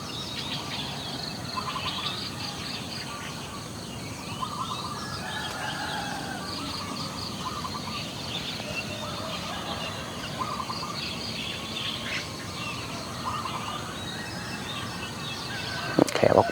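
Small birds chirp and call repeatedly in the distance over a constant outdoor background hum, faint and continuous.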